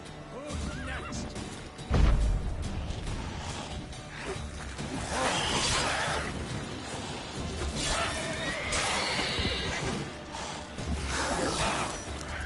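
A horse in The Witcher 3 neighs and whinnies repeatedly over a low ambient background, with a brief thump early on and faint hoof-like movement sounds.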